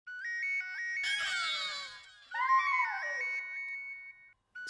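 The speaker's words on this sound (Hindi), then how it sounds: "कहीं फोन की रिंग बज रही है ना?" A mobile phone ringtone plays as a looping electronic melody, steady and fairly loud, with a burst of louder noisy sound in the middle before the tune resumes and then cuts off.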